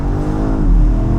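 Loud, close engine revving from a BMW M3 Touring with a hybrid straight-six, a steady harmonic drone that rises briefly in pitch.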